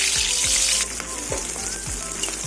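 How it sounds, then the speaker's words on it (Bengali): Katla fish heads frying in hot oil, a loud steady sizzle with sharp crackles that eases after the first second, with a few low knocks from the pan throughout. "মাছের মাথাগুলো প্রচণ্ড ফাটবে আমি মাছের মাথা ছেড়ে দিলাম"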